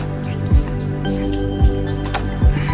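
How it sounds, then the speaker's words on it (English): Lukewarm water is splashed onto a face by hand, three wet splashes spaced about a second apart, close and fairly loud over a faint background hum. "I just wetted my face."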